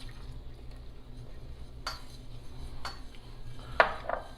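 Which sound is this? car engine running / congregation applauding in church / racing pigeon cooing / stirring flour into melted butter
stirring flour into melted butter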